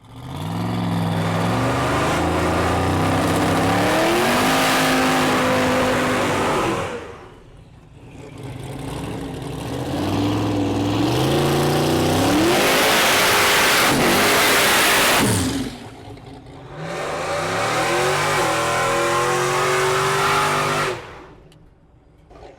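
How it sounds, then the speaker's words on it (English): A supercharged Chevrolet Silverado pickup revs hard while doing street burnouts. Its engine climbs in three long, loud surges with short lulls between them, and the roar stays close and unbroken by voices. "We got two tires doing some burnouts here, as you can see."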